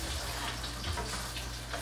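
Beer-based liquid poured into a pan of ravioli, a steady rushing, splashing pour with faint sizzling underneath, continuous and fairly close with no talking.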